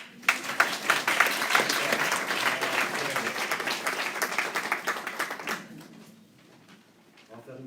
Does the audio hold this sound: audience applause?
yes